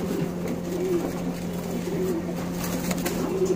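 Roller tumbler pigeons cooing softly and steadily over a constant low hum, with faint background noise and no clear talk.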